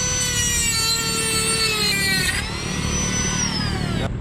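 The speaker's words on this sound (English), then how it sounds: "This is a rotary tool. I'm just gonna grind this freaking pin." A rotary tool grinds a pin during a front CV axle replacement on a Lexus GX470, a loud continuous high-pitched whine whose pitch sags under load and then climbs again.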